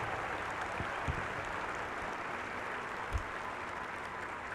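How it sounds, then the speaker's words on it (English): Broad, steady applause from a graduating class at a fall commencement ceremony in a large hall, a continuous wash of clapping at moderate distance with a couple of sharper thumps. "our graduating class might express their deep appreciation for the contributions of our faculty and staff have made to their education with a round of applause"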